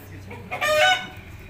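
A young Aseel rooster lets out one short, bright crow, a brief harmonic burst standing out near the microphone over a low background murmur.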